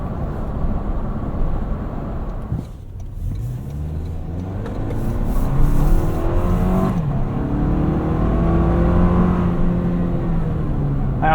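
A 2025 Toyota 4Runner Off Road Premium engine accelerates hard from inside the cabin, a steady roar climbing in pitch through gear changes with a brief dip early on, without any talk.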